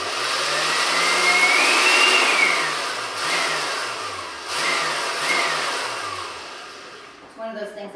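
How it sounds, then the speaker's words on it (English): A blender pulses pesto ingredients with pine nuts, its motor whirring loudly and steadily near the mic for several seconds, dipping and surging between pulses, then cutting out near the end. "Of course not while the blender is running."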